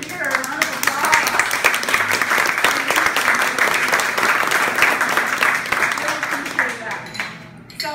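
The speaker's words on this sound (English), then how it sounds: "Give her a round of applause." Sustained crowd clapping at a book launch, brisk and dense, holding steady for several seconds before thinning and fading near the end.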